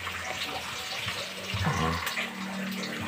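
San Miguel beer pours into a pan of garlic and ginger while chicken adobo cooks, a short close splashing gush of liquid with faint voices in the background.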